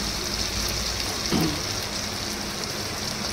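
Ghee sizzles steadily in a hot cooking pan with spiced masala, a constant close crackling hiss with a brief stir or clink partway through, no voices.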